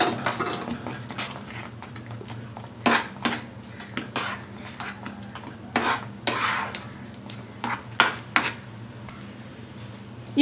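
A metal spoon stirs turmeric and salt into a khara bath mixture in a pan, making irregular clinks and scrapes against the cookware over a low steady background hum, with no voices.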